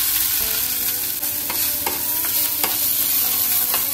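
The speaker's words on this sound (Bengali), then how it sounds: "ঘিটা দিয়ে চালটাকে ভাজবো" Rice fries in ghee for payesh with a steady close sizzle, punctuated by repeated scraping clicks as a spoon stirs the pan.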